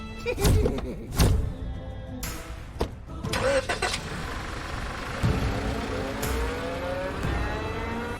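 A car engine cranks and starts with a few sharp mechanical bursts, then settles into a steady medium idle rumble close by, with brief background noise in between and no clear talk.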